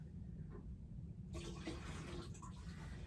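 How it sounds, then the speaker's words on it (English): Water poured out of a container while making a potter's damp box, a brief splashing gush in the second half after a quiet start. "let me just pour this out."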